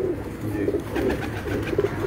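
Breeder pigeons on a rooftop in Gujranwala coo in soft, repeated low murmurs that continue steadily throughout.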